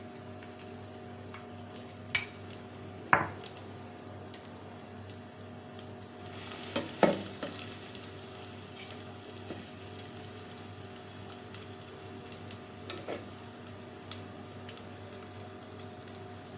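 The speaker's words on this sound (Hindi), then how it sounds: "गोल्डन फ्राई कर लूँगी" Medium onions fry in half a cup of hot oil in a pan, a steady close sizzle and crackle running throughout with occasional louder spits and scraping stirs, no voices.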